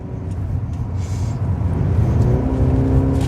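A car's 1.5 litre petrol engine revs steadily, a loud, continuous low drone that builds slightly in intensity from inside the car, with no voices over it.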